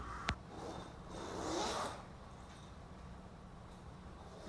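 A zipper is drawn along the edge of sewn cockpit enclosure window panels, with one sharp click followed by a smooth, rasping pull of about a second, close and clear against a quiet background.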